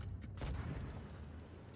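Tank gun firing in the World of Tanks Blitz video game, a single deep boom that swells and rumbles out over a second or so, heavy low-end, no talk.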